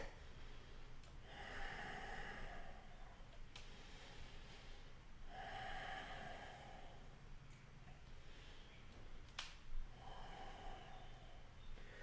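Slow, deep breaths drawn in and let out during a held yoga pose, close and clear, a steady rhythm of several long inhales and exhales with no talking.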